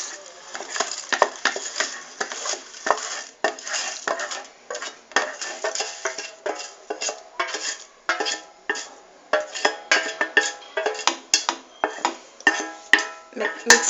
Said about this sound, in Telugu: నెక్స్ట్ మనం ముందుగా ఫ్రై చేసుకున్న సేమియాని ఇందులో మిక్స్ చేసుకోవాలి.